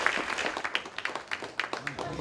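A church congregation at an Air Force base chapel applauds newly baptized members, a scattered patter of clapping with voices talking over it.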